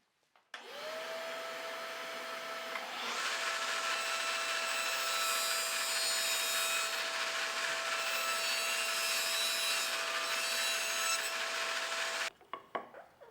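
A power saw spins up and cuts a groove in wood for a drawer bottom panel, a loud steady whine holding for about nine seconds before winding down, followed by a few light knocks.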